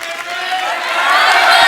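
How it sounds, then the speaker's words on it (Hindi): Studio audience on a Hindi comedy show breaks into loud applause and cheering, a dense wash of clapping that builds steadily and stays close and full throughout. "जोरदार तालियां हो जाए।"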